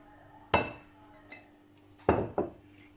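Potato salad with parsley, lemon juice and olive oil mixed in a bowl, giving a few sharp clinks and knocks of a utensil against the bowl, close and clear, in two brief clusters with quiet between.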